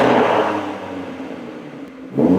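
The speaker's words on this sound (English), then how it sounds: "I'll give you a rev test right now." A BMW G82 M4 fitted with a Milltek OPF-back exhaust, revving in a loud, close burst that settles into a steady drone before climbing again at the end.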